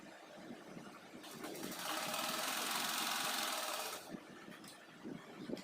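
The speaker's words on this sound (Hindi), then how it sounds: "तो दोनों पट्टियों पे सिलाई लगा लेनी है अच्छे से इस तरह से" Sewing machine stitching two fabric strips for a small Laddu Gopal deity dress, a steady continuous whirring run of about three seconds that rises and then stops, with quiet handling sounds before and after.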